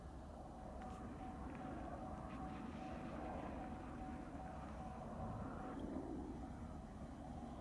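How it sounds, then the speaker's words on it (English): A plane or helicopter flying over tribal land, heard as a faint, distant, continuous engine drone and low rumble that holds steady across several seconds. "the plane or the helicopter is coming back over tribal airspace from following somebody."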